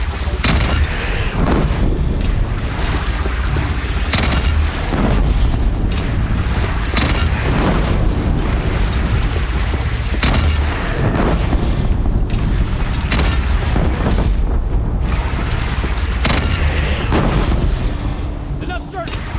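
A bandit cannon fires repeatedly during a battle in the Horizon Zero Dawn video game, heavy booms landing amid a dense, continuous din of combat, with voices talking over it.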